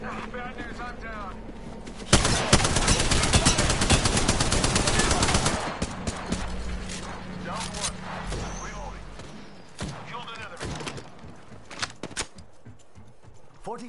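Bursts of machine-gun fire in a shooter video game, a loud rattling volley followed by scattered sharper shots as the firing thins out, with voices talking between the shots.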